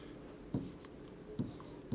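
Physics equations being written by hand, soft close scratching of a pen or marker on a writing surface with a few brief taps between strokes, quiet and heard alone without talk.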